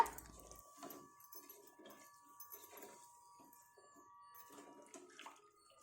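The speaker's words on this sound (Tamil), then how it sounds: "இப்போது சாம்பாருக்கு தேவையான அளவுக்கு தண்ணி ஊற்றிக்கிட்டு" Water is poured into a pot of mixed vegetable sambar during cooking, a faint splashing and trickling that runs steadily through the whole stretch.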